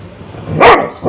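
A dog gives a short, loud bark followed by the start of another, close by in a home.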